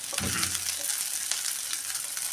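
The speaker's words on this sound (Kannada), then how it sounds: "ಇವಾಗ ಈರುಳ್ಳಿ ಚೆನ್ನಾಗಿ ಫ್ರೈ ಮಾಡ್ಕೋಬೇಕು" Onions and garlic fry in a pan, giving a brief close sizzle with soft crackles and a stirring scrape at the start, steady and moderately loud without speech.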